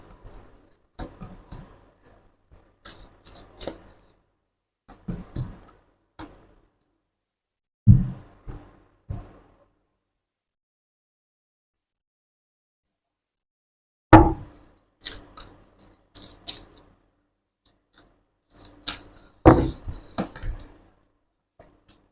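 Tarot cards are shuffled and drawn in short, scattered bursts of crisp slaps and clicks, separated by quiet pauses, close up and fairly soft.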